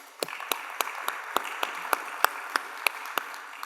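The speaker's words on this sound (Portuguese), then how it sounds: "Uma salva de palmas para Jesus." A church congregation applauds after a pastor calls for a round of praise, giving a steady run of sharp, fairly distant claps at a moderate pace with a soft crowd murmur beneath.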